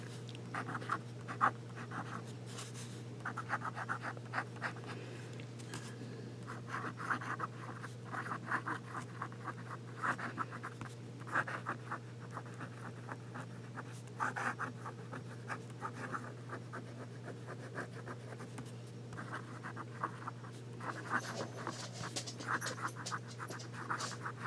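A Pilot fountain pen with a medium nib, inked with Sailor ink, writing on paper: faint, close scratchy strokes in short bursts with pauses between, over a steady low background hum.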